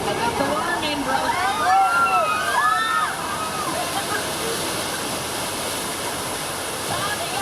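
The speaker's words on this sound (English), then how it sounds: "The water main broke." Water gushes steadily from a broken water main, a continuous rushing wash heard from start to finish, with voices talking over it during the first few seconds.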